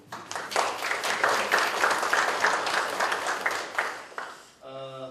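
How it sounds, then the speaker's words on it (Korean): Audience at a 2015 digital signage conference in Korea claps for the speakers, a dense burst of applause for about four seconds before it fades and a brief voice follows. "마지막으로 우리 그 발표해 주신 연사분들께 큰 박수 한번."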